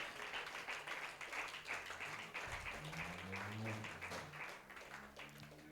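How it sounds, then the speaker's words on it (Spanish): A church congregation applauds during a sermon, steady clapping rolling on for several seconds, faint and distant, with a voice speaking underneath. "Dele ese aplauso con fuerzas al Señor Jesús"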